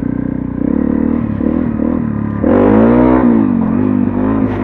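A Honda CRF250L motorcycle revs hard as it lifts into a wheelie. The close, loud engine drone holds steady, then jumps to a higher, surging pitch that rises and falls.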